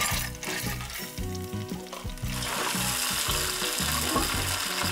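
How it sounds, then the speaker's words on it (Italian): Mussels go into a pan with an oil, crushed garlic and parsley stem base, setting off a close rattle of shells followed by a steady, loud sizzle of frying. "Aggiungiamo quindi le cozze."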